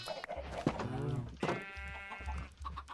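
Several video-game sheep bleat in close succession, wavering nasal cries that overlap one another, with a low steady hum underneath.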